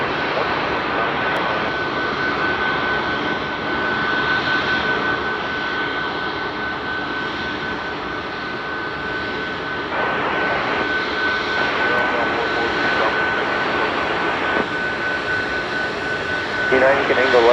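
A United airliner takes off from runway 22 Left at Chicago O'Hare, its engines a loud, steady roar lasting throughout, with a constant tone running beneath and radio-like voices faintly under the noise.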